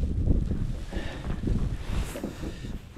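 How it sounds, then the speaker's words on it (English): Gusty wind rumbles and buffets outdoors at Lake Cascade, with low roaring noise that rises and falls in uneven waves. "it still looks really windy out there"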